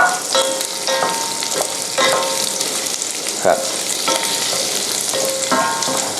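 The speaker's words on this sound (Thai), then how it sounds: "ผมลงหอมกับแครอทลงไปผัดเลยคุณผู้ชม" Shallots and carrots stir-frying in hot oil in a pan for a Japanese curry, a constant crackling sizzle punctuated by rhythmic spatula scrapes and clanks against the pan, with no talk.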